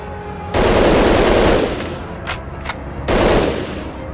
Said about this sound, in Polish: trzeba było parę strzałów oddać, żeby mieć pewność, że on zginął